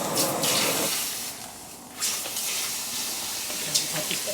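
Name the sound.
water being poured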